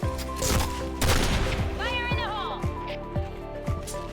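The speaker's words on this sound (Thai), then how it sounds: "ก็เลยยังใช้ AK ยิงชาวบ้านได้อยู่" AK-47 Elite gunfire in the video game Point Blank: evenly spaced single shots thump at a steady rhythm under a voice talking over the game sounds.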